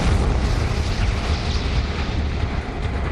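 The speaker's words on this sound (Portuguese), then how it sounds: "uma bola de fogo é expelida pelo lado da estrela" Magnetar explosion expelling a fireball, rendered as a documentary sound effect: a dense, roaring rumble with heavy low end and hissing noise, sustained and loud without a sharp onset, no voices.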